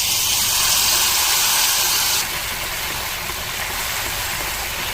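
Ground mustard paste hits a pan of fried okra with a steady, loud, close sizzle that drops slightly in intensity partway through and keeps hissing with no talk.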